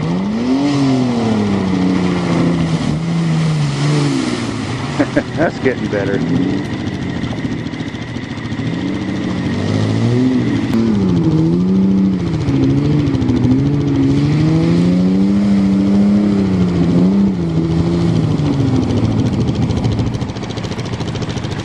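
Ford Bronco truck engine revving hard while climbing a muddy hill, a loud, sustained growl that rises and falls as the throttle surges, with brief talk near the end.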